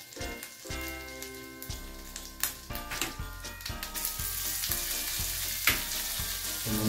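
Cumin, ginger, garlic and butter fry in a pan over a low gas flame, giving a steady close sizzle and crackle with occasional spatters and soft stirring taps, with no talking.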